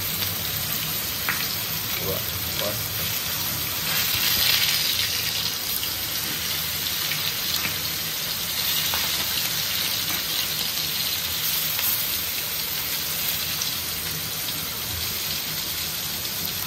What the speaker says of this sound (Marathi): मस्त मस्त आता मित्रांनो फ्राय होतील मासे, बघू शकता